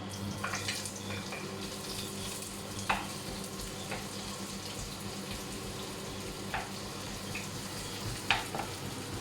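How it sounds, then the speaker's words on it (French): Sliced onions fry in a pan for red cabbage, giving a steady close sizzle that runs throughout, with a few faint clicks and stirring touches rising briefly above it. "maintenant, je mets les oignons à frire pour le chou rouge"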